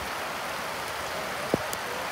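Heavy rain falling steadily in the Mekong Delta countryside of southern Vietnam during the flood season, a dense, even hiss of downpour with a brief nearby splash, no talking.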